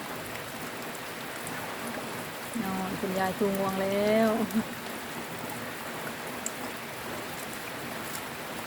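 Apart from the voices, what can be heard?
rain falling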